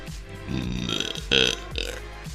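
A long, loud, deep belch rumbles close to the mic, rising into a stronger throaty burst near the end.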